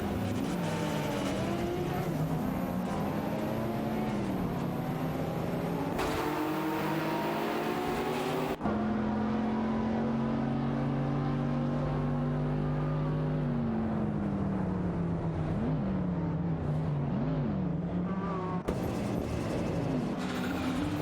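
Racing cars on a circuit during an AI-driven race, engines droning continuously with steady, shifting tones as several cars run close together, loud and sustained throughout with no talk.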